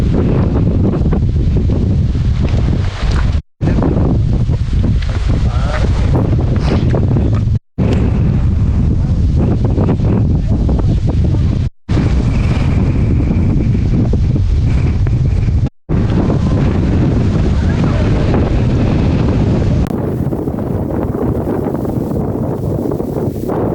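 Strong wind roars and buffets the microphone nonstop on the exposed summit of Sinbulsan in the Yeongnam Alps, loud and close, with brief cutouts before the rush eases near the end.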